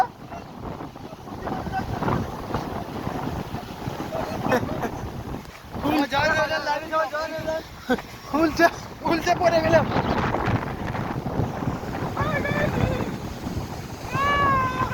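A strong windstorm with no rain batters an outdoor spot near trees, roaring and buffeting a close microphone in heavy gusts while people shout and talk excitedly over it.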